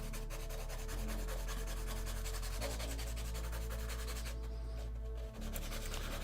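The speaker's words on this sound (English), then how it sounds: "Let me see, get this sanded." A scale model part is sanded by hand in a steady rhythmic rubbing scratch, close and continuous, over a constant low background hum.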